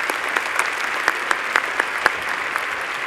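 Applause for engineering graduates at a university graduation ceremony: a steady wash of clapping from a large crowd, moderately loud, with sharper individual claps popping out throughout.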